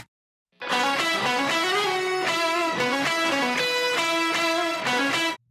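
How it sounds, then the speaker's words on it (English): Doubled lead guitar with a whammy pitching it an octave up for a glitchy, synth-like tone at the end of a chorus, playing a steady, sustained melodic line that is loud and upfront for about five seconds, with no voices. "that lead sound at the end of the chorus sounds like this"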